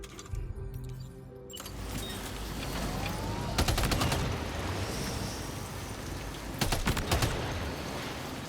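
Gunfire in the video game Death Stranding 2 aimed at floating BT jellyfish: two short bursts of rapid shots over a steady background hum, with a softer whooshing texture between them.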